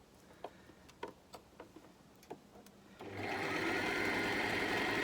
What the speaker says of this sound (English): You can straight stitch that into position too.